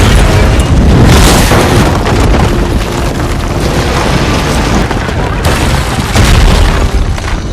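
A car explodes in an action film, heard as a loud, dense, continuous roar of blast and rumbling debris close up, sustained over several seconds with a second surge near the end.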